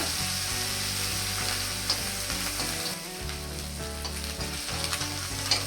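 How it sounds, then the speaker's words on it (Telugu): Garlic and spinach frying in hot oil for an Andhra palakura fry, a steady close sizzle throughout with occasional stirring scrapes, no talking. "బాగా వేయించాలి. ఆయిల్లో వెల్లుల్లిపాయలు వేగడం వల్ల మంచి ఫ్లేవర్ వస్తుంది."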